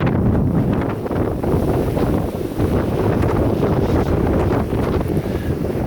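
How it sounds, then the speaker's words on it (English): Strong wind buffets a kiteboarding beach at Los Barriles, Mexico, a loud, constant roar of gusts battering the microphone with no pause. "it's so windy that it's gonna blow my gimbal around."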